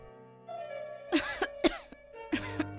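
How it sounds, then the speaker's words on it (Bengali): A person coughs in a few sharp, close bursts, spaced apart over a faint background tone, with no one talking during the coughs. "তুই এত কাশছিস কেন বলতো?"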